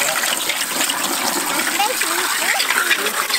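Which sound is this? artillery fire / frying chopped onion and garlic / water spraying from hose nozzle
water spraying from hose nozzle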